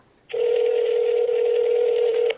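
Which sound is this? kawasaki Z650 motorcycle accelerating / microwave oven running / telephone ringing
telephone ringing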